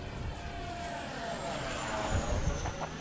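An FMS F-15 Eagle model jet passes overhead, its engine a steady, loud rushing whine that builds slightly as it nears, with no talk.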